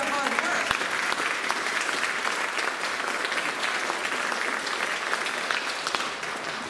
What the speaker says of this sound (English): So if we could have a round of applause for their hard work.